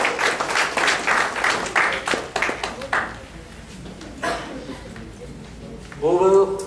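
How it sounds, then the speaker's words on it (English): A crowd claps in a burst of applause for youth leaders, uneven and fading, followed by talking and a short tonal sound near the end. "Youth leaders, with great round of applause,"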